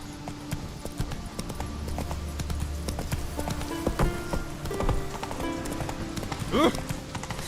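Horse hooves clip-clop at a steady trot in The Witcher 3 video game, mixed with faint game ambience and a short horse snort or whinny near the end.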